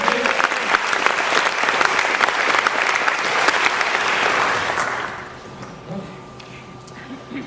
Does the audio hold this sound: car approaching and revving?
no